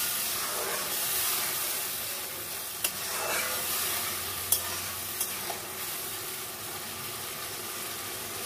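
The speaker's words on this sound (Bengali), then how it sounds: "মশলাটা বেশ কষা হচ্ছে, তেল বেরিয়ে গেছে" Spiced masala paste frying in hot oil for a vegetarian eggplant curry, a steady close sizzle and hiss with a few sharp scrapes and taps of the spoon against the pan as it is stirred.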